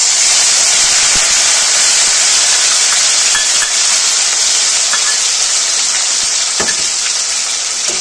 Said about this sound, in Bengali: বয়েল করা মশলাগুলো বাটা সেটা দিয়ে দেবো ফোড়নের মধ্যে।